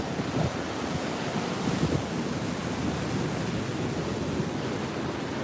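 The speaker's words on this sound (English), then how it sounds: "Yeah, let's check out these waves, hey?" Heavy ocean surf pounds the coast during a high surf advisory, with 6-8 ft waves after a storm, making a continuous broadband roar mixed with strong wind buffeting the microphone, and no one talking.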